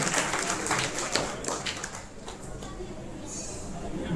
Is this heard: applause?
yes